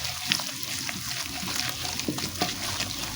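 Green chillies, ginger and garlic sizzle steadily in a hot pan for a village-style desi lentil dish. The frying is close and continuous, with occasional stirring scrapes.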